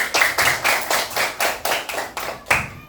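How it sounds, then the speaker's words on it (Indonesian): Children in a classroom clapping in unison, a rhythmic series of about nine loud, evenly spaced group claps, close and alone. "Tepuk tangan dulu, anak."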